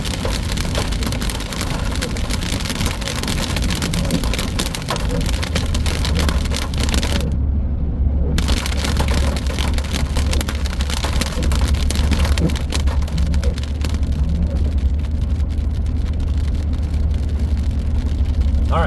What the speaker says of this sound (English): Looks like it's just normal rain now.